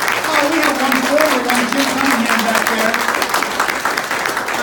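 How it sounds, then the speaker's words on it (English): A crowd at a sheriff campaign event in Clay County claps for firefighters, with steady, fairly loud applause under which a voice speaks briefly. "Let's give them a round of applause."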